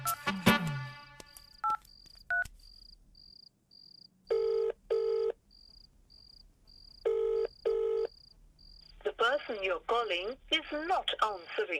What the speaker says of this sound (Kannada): ಸರ್ ಅವನ್ ಫೋನ್ ತೆಗಿತಾ ಇಲ್ಲ.